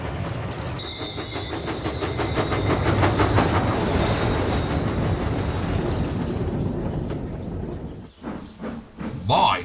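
A train hauls its cars up a hill with a steady, rhythmic chugging and clatter that keeps up for several seconds, then breaks off into a few separate thumps and knocks near the end.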